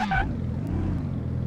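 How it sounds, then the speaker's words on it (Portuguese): A rotary engine swapped into an abandoned Golf R idles steadily and close by, a low throbbing rumble that holds an even, continuous drone throughout. "Eu acho que é a primeira vez que eu escuto um Rotary, ó, a lenta."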